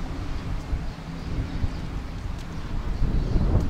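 Strong wind in Hurghada, Egypt buffeting the microphone, a rough, uneven low rumble that surges and grows louder toward the end.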